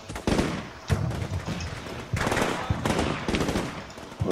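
Machine-gun bursts in the combat game CMSF2 during a Marine ambush at dusk: several loud, close rattling volleys with short gaps between them, each a rapid string of sharp reports.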